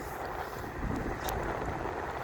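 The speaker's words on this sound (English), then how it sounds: "It's a very windy day today here in Philadelphia." Wind gusting steadily outdoors on a very windy day in Philadelphia, a broad rushing noise buffeting close to the microphone with a couple of stronger gusts.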